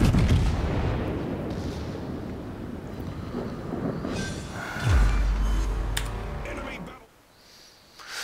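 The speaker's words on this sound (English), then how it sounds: "I get the final hits on this North Carolina with the next salvo." In the World of Warships naval game, a warship gun salvo aimed at a North Carolina battleship lands as a deep, heavy boom midway, over wind-and-sea ambience, then dies away into quiet.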